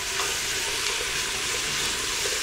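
Garlic sautéing in a pot with mirepoix vegetables, a steady broadband sizzle that holds at an even level throughout, with faint stirring clicks underneath and no voices.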